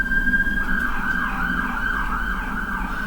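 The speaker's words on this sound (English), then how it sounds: "this is sirens in the background" Emergency vehicle sirens wail steadily in the background, a continuous rising and falling tone holding for about three seconds over low traffic rumble, with no talking.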